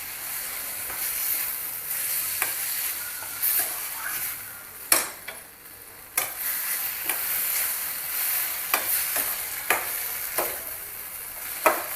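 A spoon stirs a Chinese bhel mixture in a hot pan over a continuous hiss and light sizzle, with a few sharp scraping clicks spaced through.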